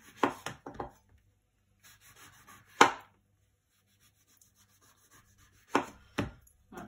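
A knife working through a grapefruit to cut out skinless segments, a few quiet crisp cuts and taps against a board with long silent gaps between them.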